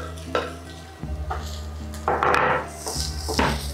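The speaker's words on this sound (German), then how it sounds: "Jetzt rühre ich den Speck unter." Bacon being stirred into a pot of Tuscan borlotti bean soup, with spoon scrapes and knocks against the pot over a steady low sizzle, a few louder scraping strokes standing out.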